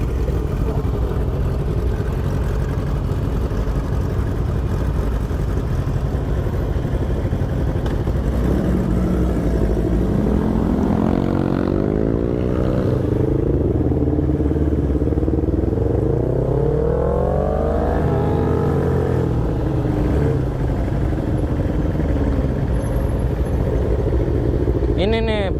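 Yamaha R6 sport bike engine racing at speed, a loud continuous drone with rising and falling pitch sweeps as it revs through gears, with voices mixed in.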